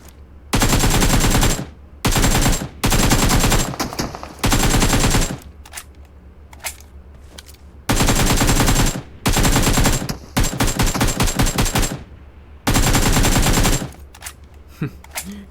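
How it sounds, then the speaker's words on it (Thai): AKM assault rifle in PUBG Mobile firing in loud, close bursts of rapid shots, with short pauses between volleys and a few single shots in the gaps. "ยิงยากอะ่ะเอเคเนี่ย ต้องกดเป็นชุดอย่างเดียวเลย"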